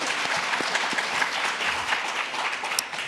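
A seated audience at a university panel on liberal arts gives a steady round of applause, dense and even throughout with no voices on top.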